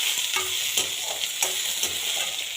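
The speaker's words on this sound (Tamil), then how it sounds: "இப்போ நறுக்கி வச்ச ஒரு மீடியம் சைஸ் வெங்காயம் நறுக்கி வச்சதை போடுறேன்" A medium chopped onion sizzling and frying in a hot pan, with a few scraping stirs of a utensil over the steady crackle.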